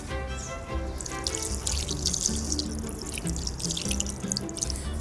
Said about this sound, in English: And a little water.